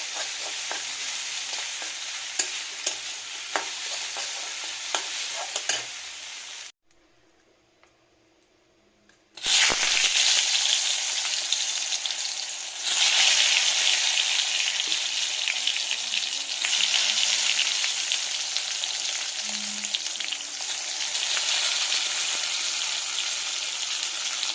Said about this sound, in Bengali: আর একটু বেগুন ভাজা করব